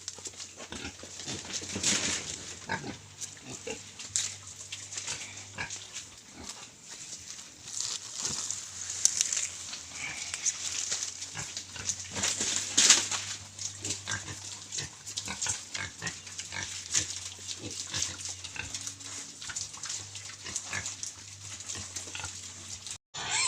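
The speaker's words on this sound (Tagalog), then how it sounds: "So ipakain natin sa ating mga alagang baboy" Pet pigs at a rural farm in the Philippines grunting and oinking repeatedly at feeding time in the morning, close and fairly soft, with a low steady hum underneath.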